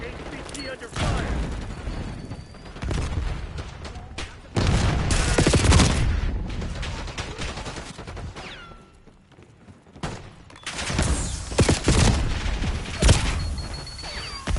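Bursts of video game gunfire in clustered volleys, loud and close, with heavy thuds between quieter gaps, while a voice speaks over parts of the action.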